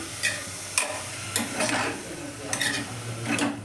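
Grated carrots sautéing in a pan for carrot halwa, with a soft sizzle broken by several distinct spatula scrapes and stirs at uneven intervals, close and moderately quiet.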